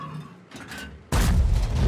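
A single loud, booming tank cannon shot in World of Tanks, from a WZ-120G FT, erupts after a quieter stretch of low rumbling, its blast sustained and heavy with a gritty, explosive tail.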